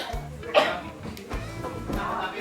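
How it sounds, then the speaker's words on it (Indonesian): A person coughs several times in short, close bursts while eating spicy fried chili skin at a meal, with other people talking around the coughs. "Ini yang dari tadi bikin batuk-batuk."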